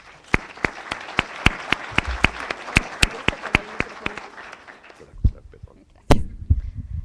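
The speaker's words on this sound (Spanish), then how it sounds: "Le damos un fuerte aplauso para escuchar" An audience at a book presentation in Mexico claps for a speaker, a run of distinct, fairly close claps in steady rhythm that fades out, followed by a brief thump and rustle.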